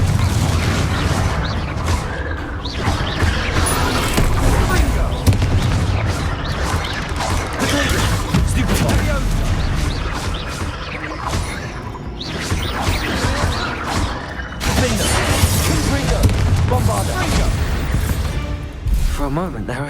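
Confringo blasting spell in the video game Hogwarts Legacy, loud crashing explosions and whooshing impacts amid sustained combat noise, repeated over the whole stretch, with a voice talking underneath.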